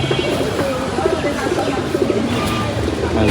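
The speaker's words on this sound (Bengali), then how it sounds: "একটা মাদি কবুতর, এক পাঠা" A female domestic pigeon in a home loft gives a soft, low, repeated cooing that rolls on steadily at close range, set against a constant background hiss.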